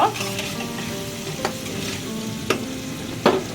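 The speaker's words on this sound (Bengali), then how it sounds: "আমি একটু পেঁয়াজ আর মরিচ কুচি দিয়ে দিচ্ছি, কাঁচা মরিচ কুচি। এটাকে ভালো করে ব্রাউন কালার করে ভেজে দিব" Chopped onion and green chilli frying in a pan, a steady close sizzle with a few sharp clinks of a spoon against the pan at intervals.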